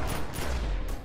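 A dense, loud volley of rapid gunfire from a weapon attack in the video game The Secret World, a continuous burst close up with no talk.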